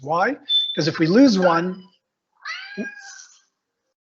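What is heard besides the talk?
phone ringtone of a cat meowing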